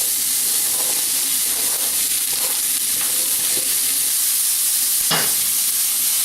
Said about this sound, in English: We want this to be nice and hot when we hit it with our onions. We want that sizzle.